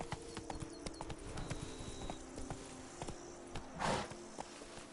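Hooves of the horse Roach clop rapidly on hard ground in The Witcher 3: Blood and Wine, a quick irregular rhythm of close, crisp hoof strikes with a brief whoosh near the end.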